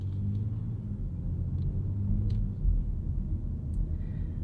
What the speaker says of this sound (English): as we pull back in, Perry wants to get some glamour shots here of the Vegas Red X3